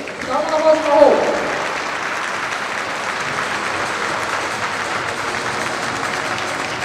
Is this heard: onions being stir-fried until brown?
no